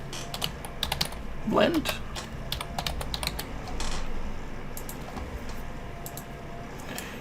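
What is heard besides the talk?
typing on a computer keyboard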